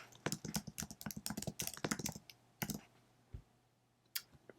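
Computer keyboard typing in a Cricut Design Space session, with a fast burst of close, crisp key clicks, a pause, then a few isolated taps.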